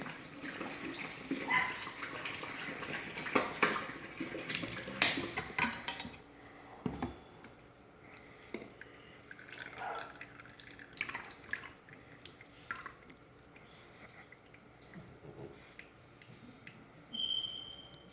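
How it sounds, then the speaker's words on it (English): Milk replacement poured into bottles until they are filled to the rim, giving a soft trickling and gurgling stream with drips and light clinks, fairly quiet and close. "you want to fill these as close to the rim as possible"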